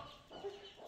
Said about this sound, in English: Mama and her chicks have now arrived.